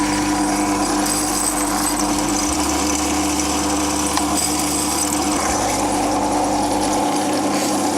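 A drain cleaning machine spinning its cutter jaws, a steady loud motorized whirr and rattling hum that runs unbroken throughout with no pauses.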